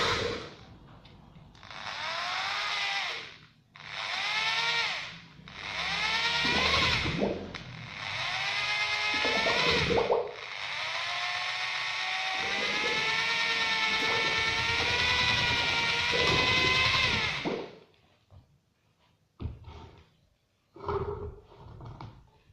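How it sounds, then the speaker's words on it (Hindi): A power drill fitted with a homemade paddle mixes fiberglass resin in several loud bursts. The motor whine rises and falls in pitch before one long sustained run, followed by a few short taps. "और ड्रिल के साथ मिक्स कर लें।"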